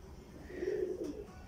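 A Lal Pari breed pigeon, an older large female, coos softly in a low rolling burble that swells mid-clip and fades, faint against light background noise.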